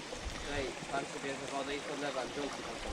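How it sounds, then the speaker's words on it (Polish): A small waterfall in a forest gives a steady, soft rushing and trickling wash of water, heard close and constant beneath people talking. "Tutaj taki wodospad jest."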